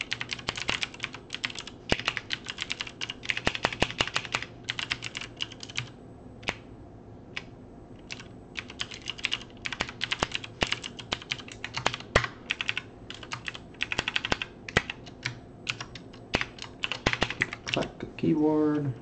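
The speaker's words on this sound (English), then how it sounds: "Clack the keyboard." Rapid clacking on a computer keyboard, bursts of keystrokes in quick irregular runs with brief pauses, fairly close and moderately loud over a low background hum.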